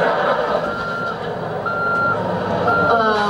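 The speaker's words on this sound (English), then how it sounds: "We're about to be emptied into the back of that truck!" A truck reverses nearby, its backup alarm sounding in steady repeated beeps over a constant engine rumble and background noise.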